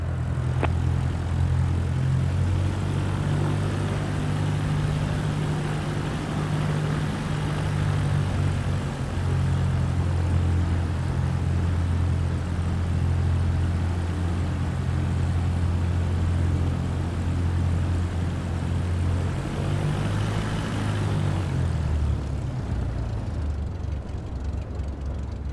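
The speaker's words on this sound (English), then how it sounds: "Now slowly taxi onto the runway and align the plane with the center line." A propeller aircraft in MS Flight Simulator 2024 taxis onto the runway with a steady, droning engine hum that holds for about twenty seconds. The engine then winds down near the end.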